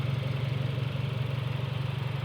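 A 2024 Ford Mustang EcoBoost Premium's turbocharged four-cylinder engine idles steadily nearby, a low even hum with a fast regular throb and no voices.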